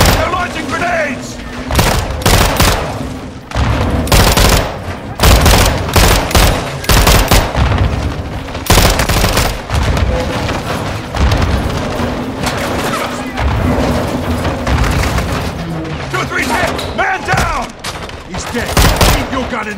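Grenade launches and heavy gunfire in Call of Duty: Modern Warfare II make dense, loud bursts of automatic fire mixed with booming blasts that carry on without pause, while soldiers shout over the combat.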